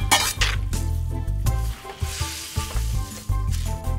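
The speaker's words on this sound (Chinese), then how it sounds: "鳝鱼下锅" Eel pieces and other ingredients go into a hot wok with chilli bean paste sauce, a loud hissing sizzle rising and falling in waves, with metal clinks and stirring knocks against the pan.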